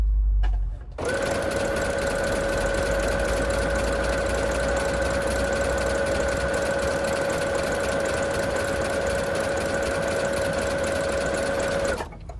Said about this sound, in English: You could actually see that the machine is making exact the stitch that I, you know, asked for.